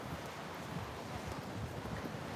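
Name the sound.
wind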